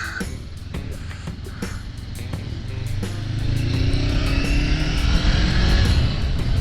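A 2021 Honda CBR 500R sport bike pulls away under acceleration, its engine drone rising in pitch and growing louder over several seconds, with wind rush and steady ticking clicks on top.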